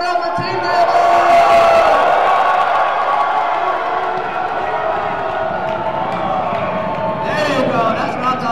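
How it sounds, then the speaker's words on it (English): The crowd at a charity basketball game between Hamtramck and Dearborn in a gym roars and cheers for the home team, Team Dearborn. The noise is loud and sustained, with an announcer's voice carrying over it. "If you are here for the home team, Team Dearborn, clap it up for Team Dearborn!"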